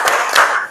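Children in a classroom play a clapping game, with two quick hand claps landing amid sung voices, close and fairly loud.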